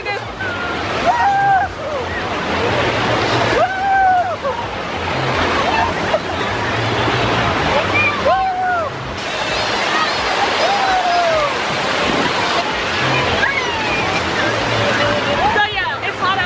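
Water splashing at an outdoor water park on a hot day, continuous surging splashes and rushing water with voices and shouts in the background throughout.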